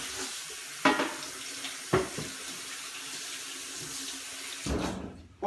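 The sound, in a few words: water running from a kitchen tap while rinsing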